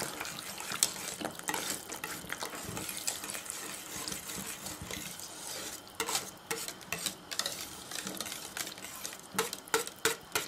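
Butter is whisked quickly into a pot of hot cream, making soft, irregular scraping and sloshing sounds that are close but quiet, with no voices.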